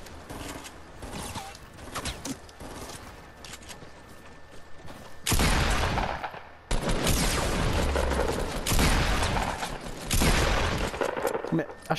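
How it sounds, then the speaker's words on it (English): Loud bursts of gunfire from the Fortnite video game erupt in the second half, several rapid sustained volleys over a busy background with faint talk earlier. "I shot him twice and he survives."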